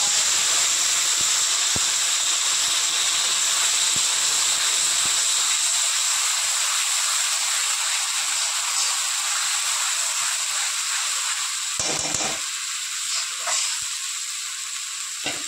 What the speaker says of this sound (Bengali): এবার দিয়ে দেবো আদা, পেঁয়াজ, রসুন, টমেটোর পেস্টটা।